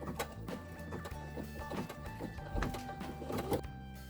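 An embroidery machine stitches a placement line for an in-the-hoop seasonal wall hanging, giving a steady, rapid mechanical whirring and ticking hum throughout, faint but continuous with no voices.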